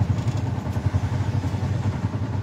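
A motorcycle engine runs steadily close by on a mountain road in Peru, a low, pulsing throb with faint clatter that holds an even rhythm throughout.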